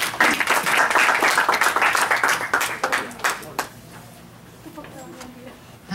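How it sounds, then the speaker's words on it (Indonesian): A church congregation bursts into dense clapping that gradually thins into scattered claps, with a voice speaking under it. "Mari berikan tepuk tangan."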